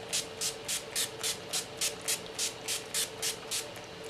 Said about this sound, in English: today I'm going to be using the MAC Dewy Finish Setting Spray.